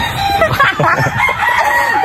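A rooster of a distinctive breed crows nearby, a drawn-out cock-a-doodle-doo with harsh harmonic wavering, heard alone over low background noise.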